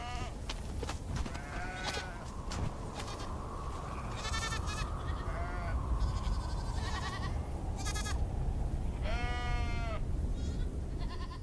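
Goats bleating in the Sahara desert, several calls spread across the stretch, some nearer and some farther off, over a steady windy outdoor background.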